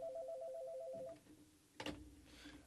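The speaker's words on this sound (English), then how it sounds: "the phone was just ringing" A telephone sounds a steady repeating electronic trill for about a second, then stops, followed by a brief clunk and faint room noise.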